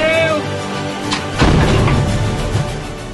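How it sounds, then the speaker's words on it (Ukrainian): A single loud blast from a 2S1 Gvozdika 122 mm self-propelled howitzer booms midway, followed by a rumbling echo, after a brief tonal hum at the start. "Постріл!"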